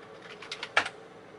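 A load command being typed on a Commodore C16 keyboard, a few quiet key clicks followed by one sharper, louder keystroke, close up in a quiet room.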